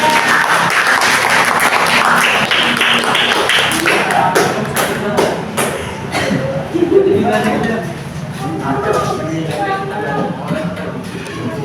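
A classroom audience claps for a student group after its presentation: a burst of scattered clapping and taps under continuous talking voices, loudest in the middle of the stretch.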